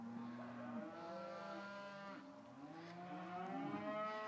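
Charolais cross heifers lowing with long, drawn-out moos that overlap and rise and fall in pitch, moderately close and steady for the whole stretch, with no talk.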